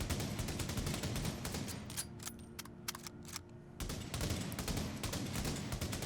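Rapid SVD rifle fire in the game The Division, a dense run of sharp shots with a brief lull where spent casings or magazine handling jingle, then steady firing resumes, no talk.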